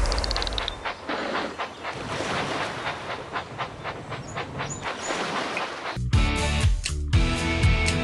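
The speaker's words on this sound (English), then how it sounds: "Clear the tracks! Engine coming!" Train engine from the Thomas and Friends Minis mobile game, a hissing, chugging rumble with rhythmic puffs, then a bright musical game jingle takes over near the end.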